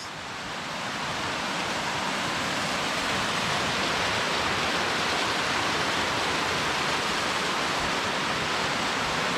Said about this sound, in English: look, there's a waterfall